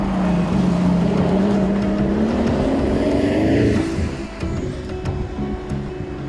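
A 2014 Pagani Huayra hypercar driving, its engine note climbing in pitch under acceleration, then easing off into a rougher, lower rumble near the end.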